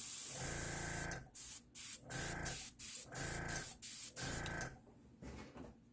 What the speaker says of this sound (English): the airbrush.